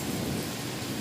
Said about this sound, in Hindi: ऐसा लग रहा है कि बारिश से भी ज़्यादा तेज़ बारिश हो रही है।